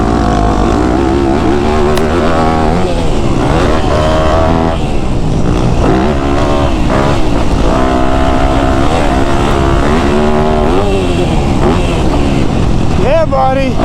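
A motocross dirt bike engine held under throttle, its loud buzzing note rising and falling continuously as the revs change, heard close throughout.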